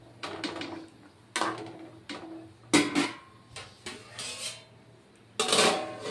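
Clattering of a metal pot and lid in a kitchen while vegetable stalks are boiled for a potato curry, several separate clanks and knocks spread over a few seconds, with a faint hum underneath.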